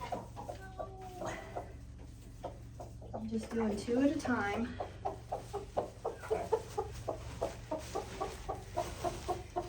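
A brooding mother hen clucks softly and repeatedly in a nesting box while a person talks quietly nearby, her low murmuring calls forming a steady, close rhythm beneath the speech.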